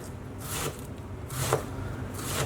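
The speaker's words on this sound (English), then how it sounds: "And we just want to finely chop this." Knife finely chopping a halved brown onion on a cutting board, a few soft, separated thuds and slicing strokes close by, with no talking.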